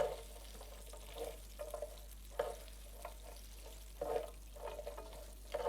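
Beans thrown raw into hot olive oil sizzle and crackle in a home kitchen, the frying a steady hiss punctuated by brief stirring clatters, close and moderately loud with no voices.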